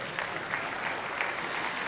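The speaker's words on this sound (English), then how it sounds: "a little more clapping" Audience clapping fills a big conference hall, a steady wash of applause with a few louder swells and no voices on top.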